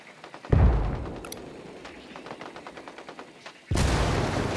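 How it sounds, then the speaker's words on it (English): Gunfire in Ghost Recon Wildlands in Ocoro Province: a loud shot, a run of rapid crackling rounds at close range, then another heavy burst at the end. "Opening fire on these fuckers."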